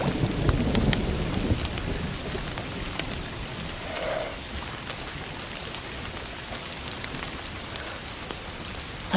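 Steady rain pours down in the game Indiana Jones and the Great Circle, a dense continuous hiss of drops with a low rumble of thunder, loudest at the start and then holding even throughout.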